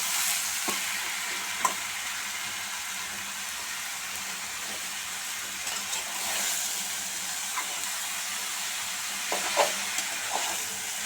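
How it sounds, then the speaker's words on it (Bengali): Bottle gourd leaves crackle and hiss in a frying pan under a steady sizzle, with occasional soft scrapes and taps of the stirring utensil, close and without voices. "শাকগুলোকে ভালো করে নেড়ে চেড়ে মিশিয়ে নিতে হবে"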